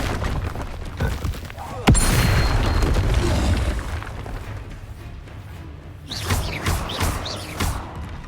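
A Confringo blasting spell explodes in the Hogwarts Legacy video game with one sharp, loud boom, followed by a rolling rumble and crackling debris, then several quicker whooshing bursts.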